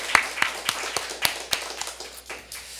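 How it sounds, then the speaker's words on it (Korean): A church congregation at an Easter Sunday service clapping: a short run of sharp, fairly regular claps, moderately close, with light background murmur. "우리 부활하신 주님께 감사로 영광의 박수 올려드렸으면 좋겠습니다"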